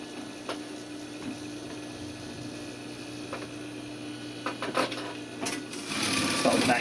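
Sewing machine stitching a back tack on a welt pocket with a lightweight pocket bag fabric, a soft steady running hum that swells louder toward the end, with a few clicks along the way.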